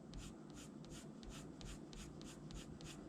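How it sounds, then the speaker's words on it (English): Quick repeated strokes of a colored pencil on paper, coloring a King Ghidorah drawing, form an even scratching rhythm heard up close at low volume. "I am coloring outside the lines, but we can always erase that."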